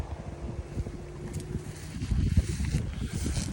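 Cold evening wind blows across open North Dakota upland country, producing a low, gusty rumble that buffets the microphone and builds stronger toward the end.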